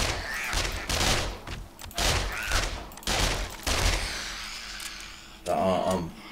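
Gunfire in the zombie survival game 7 Days to Die, fired at radiated bikers and soldiers: a run of loud bursts of shots in quick succession, repeated several times at close range with a player talking between volleys.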